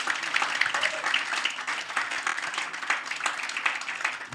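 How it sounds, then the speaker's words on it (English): Applause from a seated audience at a Model Legislative Assembly event, a steady, moderately loud crackle of many clapping hands that continues without pause. "please give a round of applause to yourselves"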